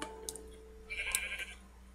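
Sheep bleat faintly in Minecraft, a short wavering bleat rising near the middle of a two-second stretch over quiet game ambience with a few light ticks.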